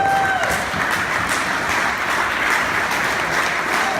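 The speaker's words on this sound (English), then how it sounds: "Give him a round of applause." Steady, full applause from a crowd at a memorial fundraiser for PKD awareness, many hands clapping evenly and continuously throughout, with no voices standing out.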